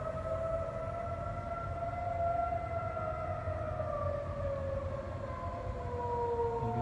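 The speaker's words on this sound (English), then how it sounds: "Siren's been going off for about half an hour here in Dallas." Tornado civil defense siren wailing across Dallas at night, a long sustained tone slowly falling in pitch, carrying from a distance over low background noise.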